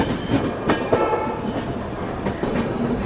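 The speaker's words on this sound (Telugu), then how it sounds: "విజయవాడ జంక్షన్ రైల్వే స్టేషన్ లోకి ట్రైన్ అయితే ఎంటర్ అయిపోయింది" A long express train of about 30 coaches rolls into Vijayawada Junction railway station. Wheels clatter and clank in an uneven rhythm with sharp rail knocks, close and fairly loud, with no voices.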